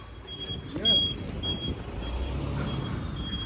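A truck pulls in at a cattle farm during a livestock shipment, its reversing alarm beeping steadily in a regular rhythm over a low engine rumble, with people calling out nearby.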